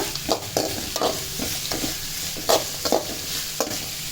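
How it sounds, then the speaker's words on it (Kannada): Curry leaves sizzle in hot oil in a pan while being stir-fried for puffed-rice upma, with a steady close sizzle and repeated rhythmic scraping stirs of a spatula, no talk. "ಇವಾಗ ನಾನು ಕರ್ಬೇವಿನ ಸೊಪ್ಪು ಹಾಕಿರೋದು ಸ್ವಲ್ಪನೇ ಹಾಕಿದ್ದೀನಿ"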